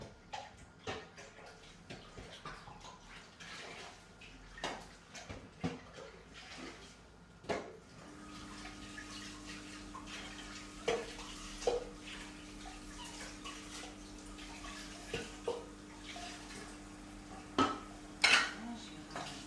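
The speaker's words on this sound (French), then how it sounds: "je vais rincer ça et je reviens" Utensils being rinsed under running water at a kitchen sink while preparing mousses, with a steady low water rush and scattered clinks and clatters of metal and dishes, one sharper clank near the end.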